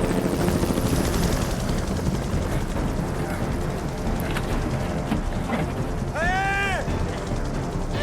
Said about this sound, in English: The helicopter's come back.